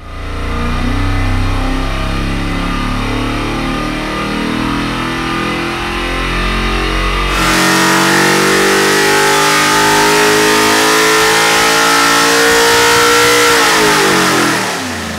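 A 427 cubic inch LSX engine runs a full-throttle dyno pull, its loud, steady roar climbing in pitch and intensity across the run before cutting off abruptly at the end.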